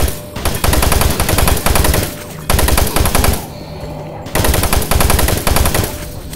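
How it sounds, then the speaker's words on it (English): Machine gun fire in Doom 3: Resurrection of Evil, loud sustained automatic bursts close up, three long volleys with short gaps between them. "Is it just me or the machine gun fires really loud?"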